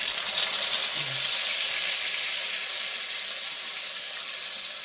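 Spice paste hitting hot mustard oil in a pan, a steady bright sizzle that starts strong and eases slightly as it settles, close and alone without talk.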